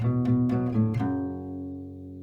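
Acoustic guitar plays a short melodic riff, a few plucked notes over about a second, then a ringing chord left to sustain and fade, close and clear with no voices.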